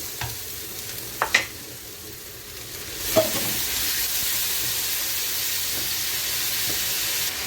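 Ginger, garlic and chili fry in a pan as the base for a prawn curry, a few sharp clinks and scrapes at first, then a steady hissing sizzle building and holding, no voices.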